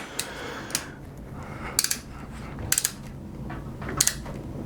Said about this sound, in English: I always like to do the security bolt in much shorter pulls of the torque wrench